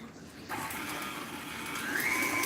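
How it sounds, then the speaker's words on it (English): An electric mixer switches on and whirs steadily through cake batter, a close, continuous motor drone that rises slightly in pitch toward the end; no one speaks. "So I'm going to turn on my mixer."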